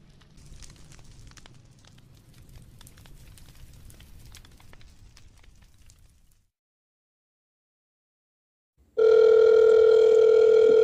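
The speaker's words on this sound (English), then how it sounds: "Can you get the phone, Mario?" A telephone sounds with a loud, steady electronic tone that starts abruptly after a quiet crackling stretch and a gap of silence.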